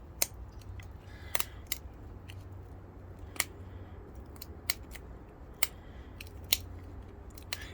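Flint blade edge being trimmed by pressure flaking, a scatter of sharp, brief clicks and snaps spaced irregularly over a steady low hum, close and fairly quiet.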